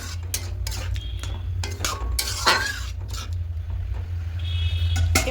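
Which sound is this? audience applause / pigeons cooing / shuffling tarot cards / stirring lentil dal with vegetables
stirring lentil dal with vegetables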